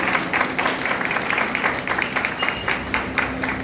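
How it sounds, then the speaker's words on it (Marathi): An audience at a book launch event applauds loudly, a dense, steady wash of many hands clapping close by that continues through the whole stretch. "जेवणासाठी जोरात जोरात टाळ्या वाजवल्या आहेत ना"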